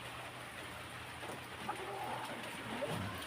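Steady rain hiss with a soft patter throughout, fairly quiet and even, a faint voice briefly surfacing partway through.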